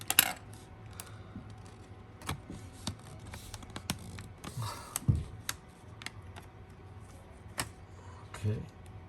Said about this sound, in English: to pry the cover off like this